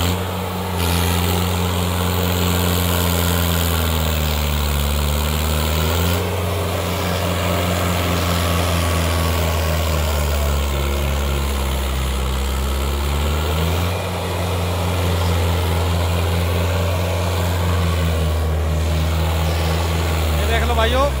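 Mahindra 555 Ultra One 2020-model tractor engine running steadily during a field demo with a hydraulic plough, a loud continuous low throb holding for about twenty seconds with a brief dip midway.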